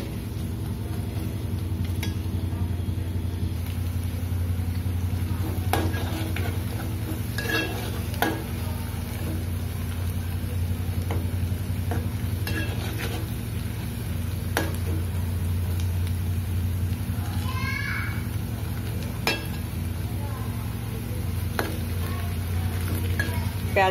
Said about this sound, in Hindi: प्याज को हमें ज्यादा फ्राई नहीं करना है, बस ट्रांसफर होने तक से पकाना है।